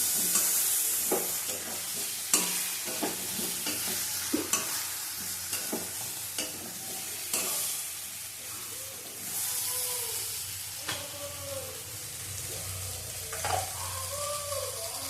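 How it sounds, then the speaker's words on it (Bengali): Fish curry spices and turmeric frying in a pan for hilsa curry, giving a steady close sizzle and hiss broken by repeated scraping stirs of a spoon against the pan. "এটা একটু ভেজে নিয়ে তারপরে নুন দেবো।"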